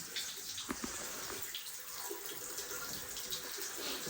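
Hot water runs from a tap in a steady, quiet hiss and splash, with a few faint knocks and no voices.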